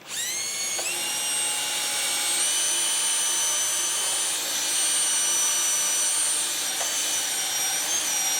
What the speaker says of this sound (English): I'm going to do a quick sand on the inside